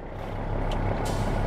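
A truck in Euro Truck Simulator 2 backs up with a low, steady engine drone that grows slightly louder, with faint short beeps and a hiss over it.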